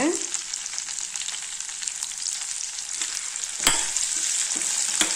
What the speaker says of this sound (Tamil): வெங்காயம் வதங்கிடுச்சுங்க. இப்போ கறிவேப்பிலை போட்டுக்கலாங்க.